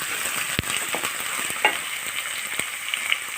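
Crushed ginger and five slit green chillies fry in a pan for a mackerel curry, crackling steadily up close while a utensil stirs with two distinct knocks and several lighter scrapes.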